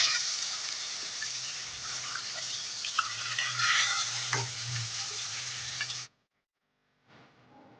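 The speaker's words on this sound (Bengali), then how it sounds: "এখানে মাছ ভাজা হচ্ছে এখনো" Fish fries in a pan with a steady, close sizzle and crackle for about six seconds, then cuts to silence before a fainter stretch of sizzling resumes.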